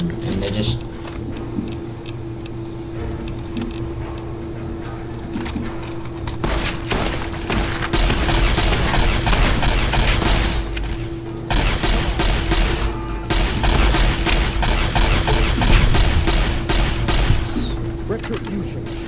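Close-range gunfire in Fallout New Vegas comes in bursts of loud, rapid shots that grow heavier midway, with booming impacts and a steady background hum, while a voice talks over the action.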